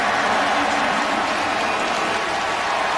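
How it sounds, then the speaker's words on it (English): A stadium crowd at an Indianapolis Colts home game against the Jacksonville Jaguars in 2010 roars for running back Dominique Rhodes, a dense, steady wash of cheering and applause that stays loud throughout. "Listen to the crowd give it up for Dominique"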